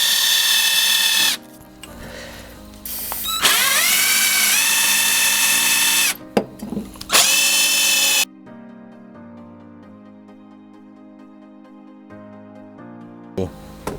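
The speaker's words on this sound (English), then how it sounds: "we should be able to drill a hole into it" A power drill bores into a snapped stud lubricated with WD-40, whining loudly in several long bursts with short pauses, then falling quiet apart from faint clicks and a final brief spin.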